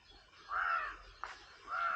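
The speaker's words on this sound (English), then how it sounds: "We hear lots of peacock around, pretty shy birds" Outdoor walk among shy peacocks, with two loud, harsh, drawn-out calls separated by a short pause and a brief sharp sound, heard at moderate distance with no talking.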